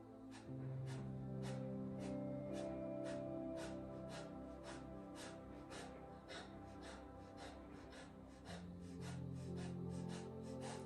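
Rapid pulsed breathing during a yoga exercise: a quick, even train of short, forceful exhalations, faint and close, over a soft sustained musical drone.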